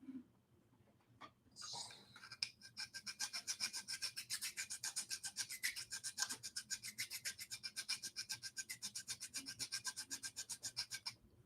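A file rasps across a brand-new Ender 3 3D printer build plate in a long run of quick, steady, evenly spaced strokes, close and fairly loud after a few faint scrapes at the start.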